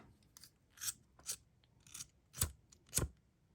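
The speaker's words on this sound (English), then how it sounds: "going to snip off this cord that we put the sliding knot in" Scissors snip through a beading cord tied with a sliding knot: five or six crisp, close cuts in an uneven rhythm, with no talking.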